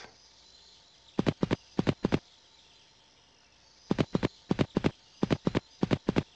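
Hooves clip-clop in a horse-riding video game, crisp near taps in quick clusters of three or four, pausing between groups over a faint ambient background.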